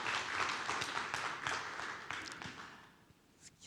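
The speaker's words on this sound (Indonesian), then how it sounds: "tentunya tepuk tangan untuk semua" An audience at a corporate public shareholder presentation gives a round of applause. The clapping is moderate and dense, then thins out and fades near the end, with a few scattered taps left.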